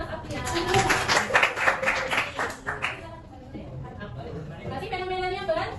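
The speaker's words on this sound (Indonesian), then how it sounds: "Tepuk tangan untuk Mas Afian." A classroom of students claps for a classmate during a lesson, a brief burst of rapid, moderately loud applause over the first half that dies down into quieter room murmur and talk.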